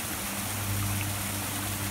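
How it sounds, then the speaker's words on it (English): Cove Creek Falls in Buchanan, Virginia, spilling into a small rocky gorge, gives a steady, unbroken rush of falling water that holds a constant level throughout, with no voices. "you can see the falls here on the left side"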